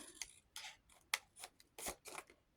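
Scissors snip paper for a Christmas accordion-style journal: about seven crisp, close cuts in an uneven rhythm, with quiet pauses between them and no talking.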